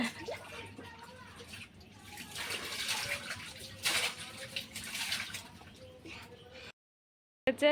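Water splashes and sloshes close by while a child is bathed, with an adult talking over it, before a sudden cutoff near the end.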